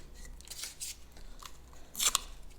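Painter's tape is peeled from a White rotary sewing machine's tension assembly with short, crackly ripping bursts, a brief tear early on, then a sharper crisp peel near the end, close and quiet with no talking.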